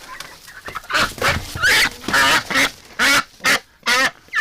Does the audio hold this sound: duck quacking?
yes